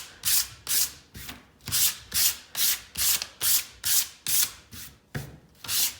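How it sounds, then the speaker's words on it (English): A painted wooden dog-tail leash holder is sanded by hand, giving a rustic distressed look. About a dozen rhythmic, close, raspy strokes sound back and forth in an even cadence, with no talking. "So I'm just gonna sand mine."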